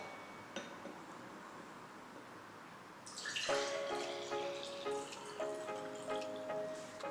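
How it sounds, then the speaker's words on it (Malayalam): Freshly blended cucumber juice is poured into a glass, a soft trickling stream that starts midway and continues with gentle splashing, close and fairly quiet. "ഇനി നമുക്ക് ഗ്ലാസ്സിലേക്ക് ഒഴിക്കാം."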